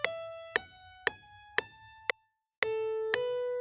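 Natural minor scale played as separate plucked or struck notes, each with a sharp attack and quick decay, spaced at an even pace, with a short gap before the final notes ring out.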